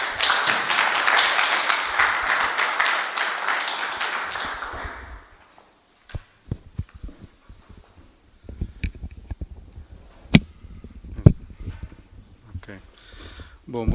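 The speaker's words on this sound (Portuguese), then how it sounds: "pudéssemos acolher com as nossas mãos, neste caso aplaudindo o Pedro Barroso" An audience claps loudly and steadily for Pedro Barroso at a Lapa gathering, a dense, sustained round of applause that fades out after about five seconds, leaving scattered taps and small room noises.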